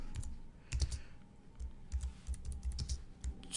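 Keys clatter on a computer keyboard as a short message is typed, with quick irregular bursts of clicks close up and nothing else audible.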